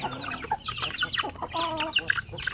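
Several native chickens cluck and squawk close by in quick overlapping bursts, a busy flock chattering without pause.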